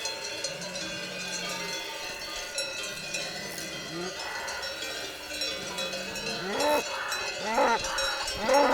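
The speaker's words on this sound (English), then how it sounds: "Actually, this is a bull." On a mountain hike in the Aosta Valley, cowbells clank continuously around a bull, and its deep, drawn-out lowing calls rise and fall several times near the end over a steady outdoor background.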